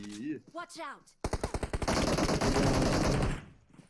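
Rapid automatic gunfire in the PUBG Mobile game, a loud burst of closely spaced shots rattling for about two seconds after a brief voice.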